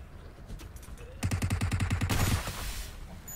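Rapid machine gun fire in the PUBG Mobile video game, a fast rattling burst of evenly spaced shots lasting over a second, loud and close, preceded by a few scattered shots.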